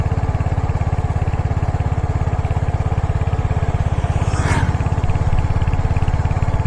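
A 2026 Royal Enfield Hunter 350 motorcycle rides at a steady pace, its low, even engine thump close and constant throughout, with a brief passing whoosh near the end.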